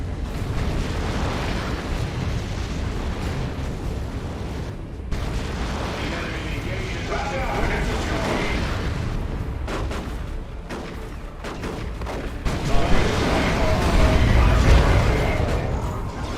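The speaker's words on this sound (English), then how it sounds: "Does use a grenade launcher barrage to disrupt the capture" Grenade launcher barrage in a Warhammer-style real-time strategy battle, heavy continuous booms and blasts layered over constant battlefield rumble, swelling louder near the end, with a commentator speaking throughout.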